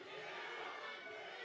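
A large arena crowd at a MrBeast versus Ninja gaming event at the HyperX Arena roars and chants in a steady, dense wash of voices, heard from a distance and fairly faint.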